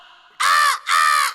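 A voice imitates a crow, giving two loud, harsh caws in quick succession, each about a third of a second long, close to the listener.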